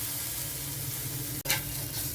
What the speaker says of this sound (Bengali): সবজিগুলো কিছুক্ষণ ভেজে নিতে হবে।